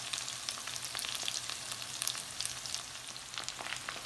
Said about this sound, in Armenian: որ տապակի բերանը բաց ենք թողնում, որպեսզի ջրային մաս չգոյանա և տապակվի։